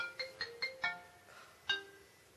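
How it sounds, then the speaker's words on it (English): A phone's melodic ringtone chimes in a few quick bright notes, pauses, then sounds once more, fairly quiet in a calm room. "Always people ringing when you're trying to do it."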